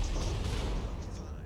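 Naval gunfire striking a ship in World of Warships as a destroyer lands hits: a rumbling barrage of booms and rolling blasts, loud and continuous, with a voice partly audible over it.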